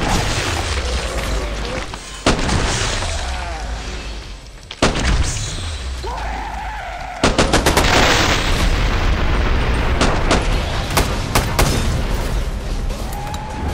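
Kalashnikov rifle fire in Killing Floor 2, a run of loud sharp rifle shots in bursts with booming impacts between them, dense and close in a hectic fight with brief game voices.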